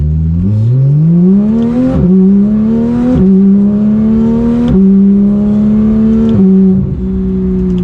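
A Porsche 991 911 GT3 with a PDK gearbox pulls away hard from a stop. Its loud engine note climbs steadily and drops sharply at several quick upshifts, rising again after each one.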